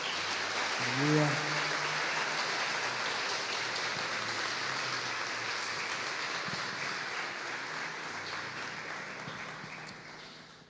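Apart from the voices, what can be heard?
congregation applauding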